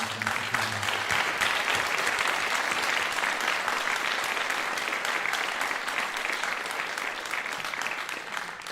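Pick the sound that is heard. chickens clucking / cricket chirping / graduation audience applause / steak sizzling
graduation audience applause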